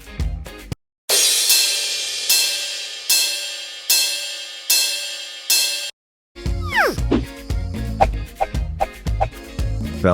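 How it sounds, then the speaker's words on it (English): A cymbal struck repeatedly, five or six loud crashes with a bright, noisy shimmer that rings and decays between hits, then silence and a burst of other percussion sounds. "Cymbal."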